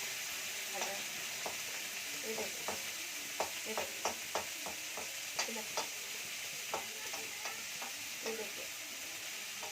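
Pieces of katla fish fry in hot oil, a steady fine sizzle with scattered crackles and pops, fairly quiet and close, no voices.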